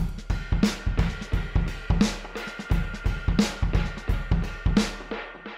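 A steady drum groove of punchy kicks and snappy hits repeats in a tight rhythm, with a wide, shimmering, slightly doubled sheen on each hit from a three-voice chorus effect.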